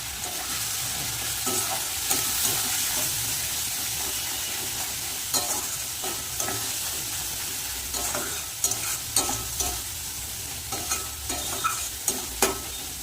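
Turmeric, chili powder and salt are stir-fried in a hot pan with a steady, close sizzle. Sharp scraping stirs grow more frequent toward the end.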